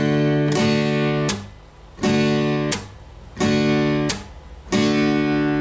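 Strummed guitar chords from a song ring out in a steady pattern, each held chord cut short by a sharp muted chop, repeating about four times with no voices.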